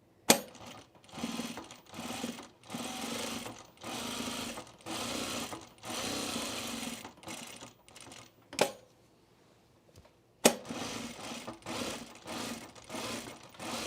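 A sewing machine stitches down thick layers of pre-quilted jacket fabric at the pocket, running in steady bursts of rapid mechanical clatter with short pauses and a longer stop near the end.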